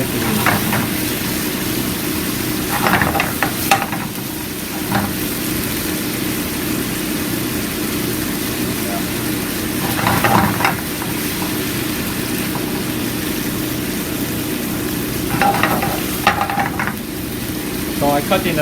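Thin slices of crisp lotus root sautéing for kinpira in a pan: a steady loud sizzle with a low hum underneath and a few bursts of stirring and tossing, no talking heard.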